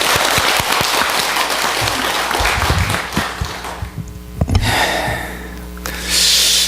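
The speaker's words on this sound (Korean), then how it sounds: "설판 제자 고생하셔서 박수" An audience at a Buddhist dharma meeting in a temple breaks into dense, loud applause that thins out to scattered claps and quiet rustling, then swells again briefly near the end.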